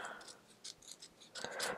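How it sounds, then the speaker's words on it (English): Scissors trim the edge of a recycled Christmas card in a quiet room, two or three short, close crisp snips and slicing strokes, soft and alone. "I'm just going to give this a trim with my scissors."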